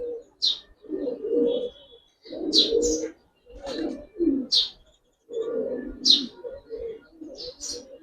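Giribaz and colouring pigeons at a farm give a string of close, distinct coos in separate bouts with brief silent gaps, punctuated by sharp high chirps.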